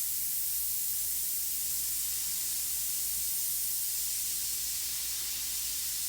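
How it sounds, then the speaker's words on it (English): Airbrush spraying charcoal paint in a heavy application, a steady, close, continuous hiss that holds evenly throughout with no talk. "Even though that's charcoal, it's going to work because I'm spraying it heavier."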